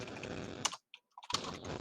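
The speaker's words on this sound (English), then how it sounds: "once you're done typing, George, join us." Fingers clack rapidly on a computer keyboard, a dense run of close keystrokes that stops briefly for a moment of near silence with a few stray clicks before the typing resumes.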